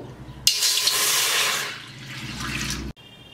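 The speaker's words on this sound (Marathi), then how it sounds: "त्याच्यात एक वाटी पाणी घालू." Water poured from a bowl into a pot on a gas stove, a close, steady splashing pour lasting about two and a half seconds before stopping abruptly.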